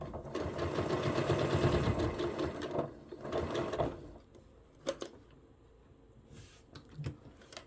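Near a D-ring on a beach bag, a sewing machine back-stitches in a close, steady whir for about four seconds, then stops, leaving soft handling taps and clicks.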